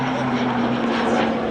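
An aerobatic aircraft at Duxford, 2004, pulling through a Cuban 8: a loud, close, steady engine roar with a sustained droning tone, a brief burst without pauses.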